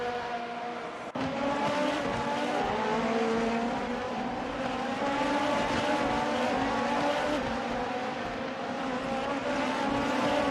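Super Formula race cars at Fuji in the Assetto Corsa racing game roar continuously with a loud, high engine whine that rises and shifts in pitch, with one short dip near the start, and no talking.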